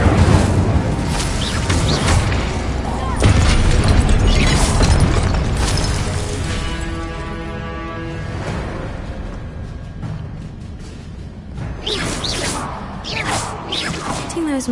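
Incendio fire spells cast in Hogwarts Legacy burst with whooshing blasts and crackling flame, loud and layered, followed by mechanical clanking as stone archways shift, with quieter stretches between the bursts.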